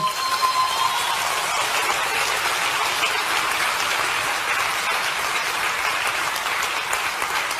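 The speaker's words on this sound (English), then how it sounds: "Shouldn't you give God a good clap, thanksgiving?" Steady, dense applause from a large church congregation fills the whole stretch, a continuous even patter of many hands clapping without a break.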